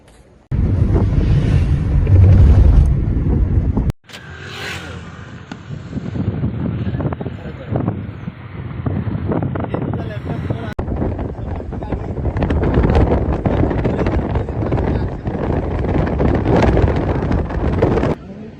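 Ocean waves wash onto a quiet sandy beach at Shrivardhan, mixed with heavy wind buffeting the microphone. The roar is loud and continuous, with a short break near the start.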